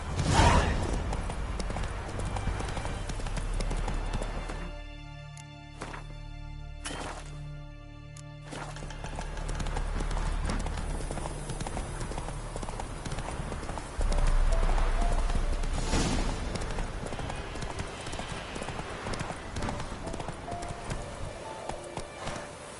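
Rhythmic clip-clopping of the horse Roach's hooves at a gallop, steady and close, with brief dropouts midway and a faint whinny, no talk.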